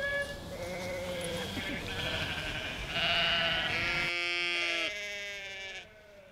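A flock of sheep grazing on peri-urban land bleat in overlapping calls, several animals near and loud, voices rising and falling against steady outdoor background, with no talk.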